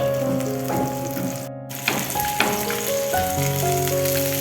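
Tilapia fish frying in a pan with a dense, steady sizzle and crackle of oil, a few sharper pops and clinks partway through, no talking.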